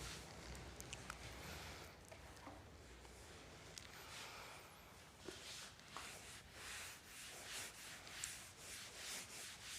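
A classroom board is rubbed clean during a physics lesson, giving a steady, close scrubbing and rubbing sound with small bumps, continuous for about ten seconds and with no talk over it.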